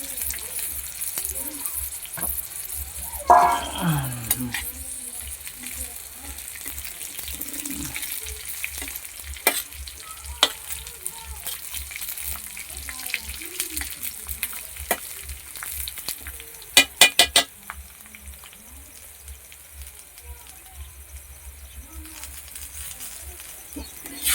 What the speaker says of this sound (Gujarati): શેકેલી શીંગ નાખી દઈએ હવે।